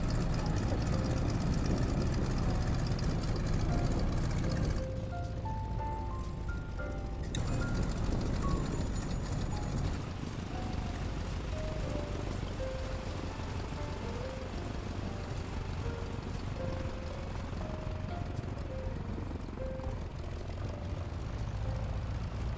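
Stearman biplane radial engine in a flight simulator game, landing near Bristol, a continuous rumbling engine drone that shifts in tone partway through, with faint melodic tones drifting over it.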